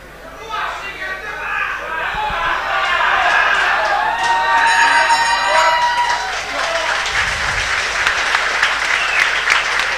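Audience applause and cheering at a live MMA fight night, a loud, sustained wash of clapping from a large indoor crowd with scattered whoops, under an announcer's voice on a microphone.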